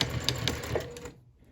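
A sewing machine stitches a scant eighth-inch seam on a fabric scrunchie, a short close run of rapid ticking stitches that stops abruptly into near silence.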